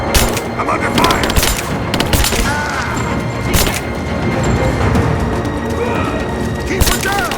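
Gunfire in Rise of the Tomb Raider, loud rapid automatic bursts and scattered single shots with crashes and booms, while voices shout through the firefight.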